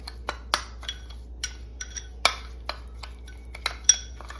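Spoon stirring a Dijon mustard and brown sugar paste in a bowl, a string of light irregular clinks and scrapes against the bowl, close and quiet with no talking.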